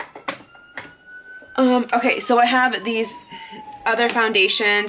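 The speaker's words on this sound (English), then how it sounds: "I apologize for the siren in the back." An emergency vehicle siren wails outside, faint and distant, as a steady rising and falling tone beneath someone speaking close up indoors.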